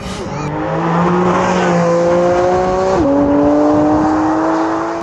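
A Porsche Cayman GT4 RS engine revs hard through 7,000 RPM downshifts, a loud, close, continuous high-pitched wail whose pitch climbs steadily, drops sharply once and then rises again.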